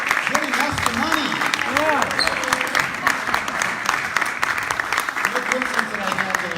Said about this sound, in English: give him a big round of applause for giving us the money